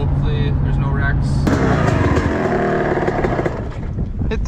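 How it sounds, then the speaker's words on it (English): Polaris 1000 Scrambler ATVs ride fast through trees on a dusty trail, their engines droning loudly and continuously close by with shifting revs throughout. "They both got Polaris 1000 scramblers, so it's gonna be a fast ride in the trees."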